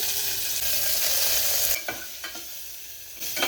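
Sliced onion and curry leaves sizzle in hot oil in a pan, a continuous frying hiss broken by a few quick stirring scrapes, with no talking.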